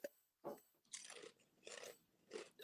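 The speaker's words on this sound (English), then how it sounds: "Oh, you hear that crunch?" Someone bites into a crunchy snack close to the mic: a quick series of about four or five sharp, dry crunches and chews, fairly quiet and alone.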